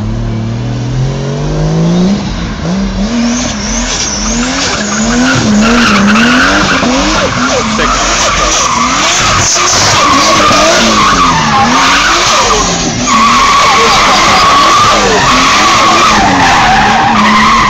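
A car spun round with tyres skidding and squealing as the engine revs hard, a loud, sustained screech with wavering pitch throughout.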